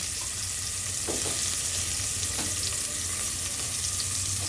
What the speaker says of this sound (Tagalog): Igigisa ko yung mga ricado, luya saka sibuyas.